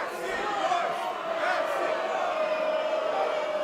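A wrestling crowd at a Juggalo Championship Wrestling show shouts and cheers in a steady, dense roar that fills the whole stretch, with a brief dip before it swells again.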